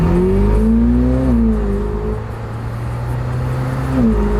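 A Ferrari F8 twin-turbo V8 idles low and loud with exhaust valves open, then revs up briefly with a rising and falling whine, settling back to a steady rumble.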